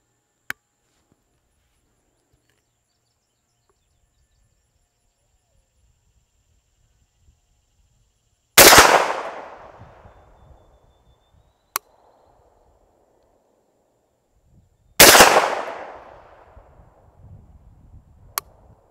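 Two loud shotgun blasts from a TriStar Viper G2 firing Brenneke 28 gauge slugs at a 50-yard target, each a sharp crack with a decaying outdoor tail, spaced several seconds apart alongside a few faint clicks.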